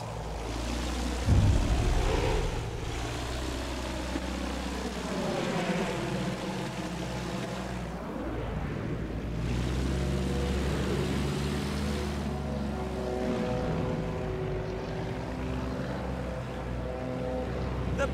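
The engine of a Bristol biplane in the Battlefield video game drones steadily and loudly throughout, its pitch rising and falling as the throttle shifts, with no talk over it.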